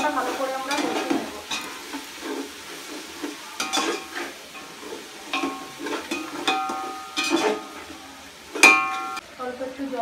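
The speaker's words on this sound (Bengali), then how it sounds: "মশলাটা ভালো করে আমরা কষিয়ে নেব" A spice paste of turmeric powder and salt is stirred and sautéed in a pan, spatula scrapes and clinks recurring in an uneven rhythm over a soft steady sizzle, close and fairly clear.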